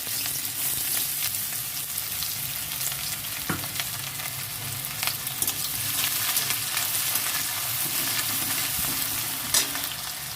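Onions frying in hot oil in a home kitchen, a steady loud sizzle with occasional crackles and the scrape of stirring, continuing throughout without any voice.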